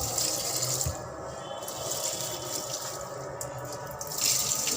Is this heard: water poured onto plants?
yes